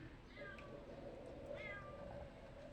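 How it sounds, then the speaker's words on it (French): A house cat meows twice, rising and falling calls near the listener, set against a steady low room hum with faint background voice. "Il y a Lilou qui miaule"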